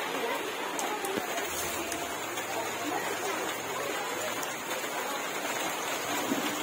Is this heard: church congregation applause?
no